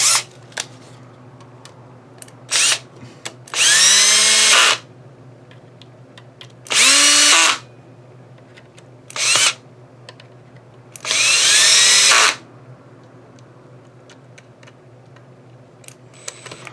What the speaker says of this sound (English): Let's run these screws in